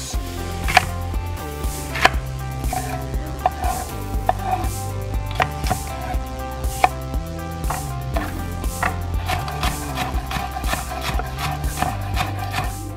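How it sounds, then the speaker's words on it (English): Lettuce is shredded thinly with a knife on a cutting board, a brisk run of repeated crisp chops and knocks in uneven bursts, close up and fairly loud, with no talking. "Okay, so I just shredded this lettuce up super thin."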